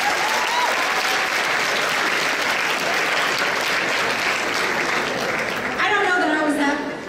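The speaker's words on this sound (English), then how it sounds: "So give yourselves a round of applause." Sustained applause from a convention audience of about 750 people at a keynote address, a dense, loud wash of clapping that continues throughout, with a few voices rising near the end.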